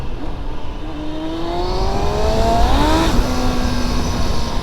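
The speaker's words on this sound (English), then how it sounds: "so far the bike's running awesome" A Yamaha R1 motorcycle engine revs and climbs through its gears while being ridden on a cold day, rising whining tones over steady wind rush, loud and close.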